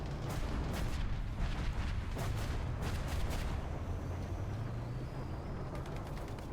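Missile launches from an XM246 anti-aircraft vehicle in War Thunder, loud booming whooshes with bursts of impacts over a constant rumbling engine drone, steady and close throughout.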